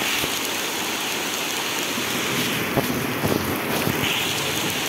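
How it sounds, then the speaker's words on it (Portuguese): Heavy rain pours during a storm in Ubatuba, Brazil, with water rushing along a flooded street; a dense, continuous hiss of downpour and running water, close and steady with occasional spatters. "A rua já encheu. É muita água correndo, ó."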